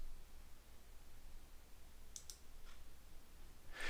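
A computer mouse clicks a few times while working in Civil 3D software: three quiet, sharp clicks spaced closely together, then a louder one at the end, over a faint steady hiss with no talking.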